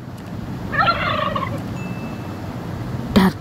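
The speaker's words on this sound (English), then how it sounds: "Turkey." A turkey gives a single loud, close gobble: a quick warbling burst of rapid notes, followed by quieter background and a short sharp call near the end.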